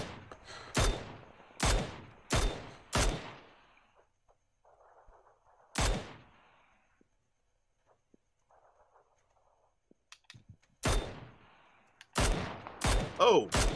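Gunfire in the PUBG video game rings out in sharp single shots, a quick run of four, then isolated cracks and a late cluster, loud against near silence with faint voices between.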